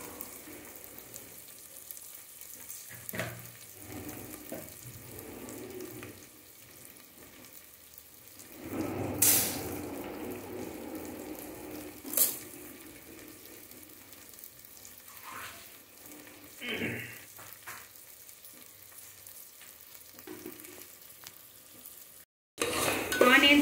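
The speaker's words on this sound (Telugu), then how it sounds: "కొంచెం ఆనియన్స్ వేసాక కొంచెం సాల్ట్ యాడ్ చేసుకోండి, ఆనియన్స్ త్వరగా వేగిపోతాయి." Onions fry with salt in a pan with a quiet, ongoing sizzle, broken by intermittent stirring scrapes and spoon knocks, then a sudden louder burst at the very end.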